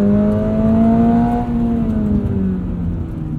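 A 2022 Subaru BRZ Premium with automatic transmission, heard from inside, gives a loud sustained engine drone that climbs then eases in pitch as it holds revs, with no talking.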